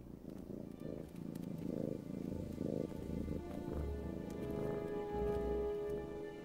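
A soft, steady cat purr rumbles low and rhythmic, quiet and close, with faint synthetic tones drifting in the background.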